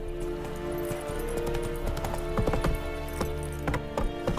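Horse hooves trotting in The Witcher 3, a steady clip-clop beat carrying clearly through the whole stretch, with a brief whinny-like sound and faint game ambience underneath.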